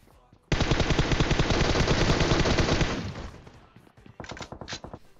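Sustained automatic gunfire in PUBG, a loud rapid burst lasting several seconds that fades out, followed by a shorter, quieter flurry of shots.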